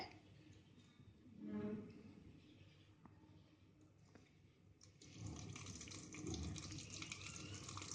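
Boiled and cooled water poured into a container for homemade white wine, a soft gushing stream that swells briefly, then returns louder and steadier for the last few seconds, with no talk.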